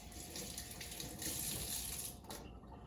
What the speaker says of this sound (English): because I want to make sure I don't have any shell sticking to my egg, I am going to give it a rinse.